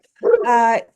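A household dog gives one short, close bark with a whining edge during an online county delegation meeting, clear and alone.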